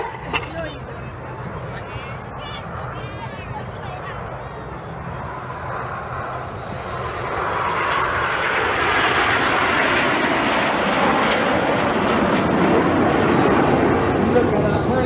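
Red Arrows jets fly an air show display, their engines a broad roar that swells louder midway and stays strong, with a commentator's voice and crowd noise beneath.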